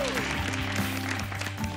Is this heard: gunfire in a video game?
no